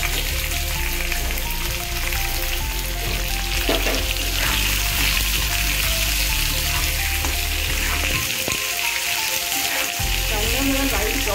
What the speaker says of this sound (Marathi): कांदा मला लाईट ब्राऊन होईपर्यंत आपण भाजून घेऊया